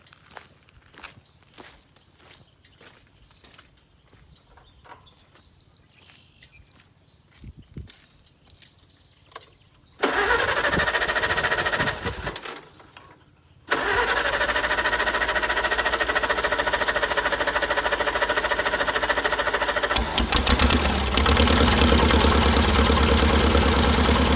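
A 1948 Farmall C tractor engine cranks and catches after some quiet shuffling footsteps, stumbles briefly, then fires again and settles into a loud, steady, close-up idle.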